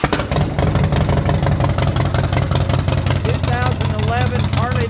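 A 2011 Harley-Davidson Dyna Street Bob motorcycle idles with a close, loud, lumpy rumble, and a voice comes in over the engine toward the end.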